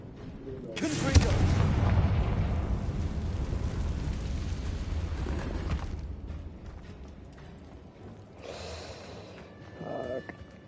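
A Confringo blasting spell explodes in the Hogwarts Legacy video game, a loud sustained boom with rumbling debris that fades over several seconds, followed by fainter game effects near the end.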